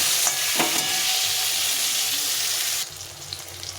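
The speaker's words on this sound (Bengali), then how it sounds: "প্রথমে নুন হলুদ দিয়ে বেগুনগুলোকে ভেজে নেব" Eggplant pieces seasoned with salt and turmeric sizzle in hot sunflower oil, a loud continuous hiss close by that drops abruptly to a quieter crackle near the end.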